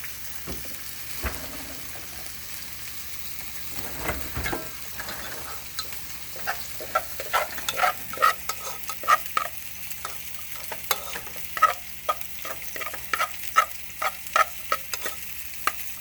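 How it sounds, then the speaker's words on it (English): A spoon stirs a small amount of whipping cream into cooked rice in a home kitchen, giving repeated soft scrapes and clicks over a steady low hum and faint sizzle, with no talking. "You don't need very much, and you just stir it in."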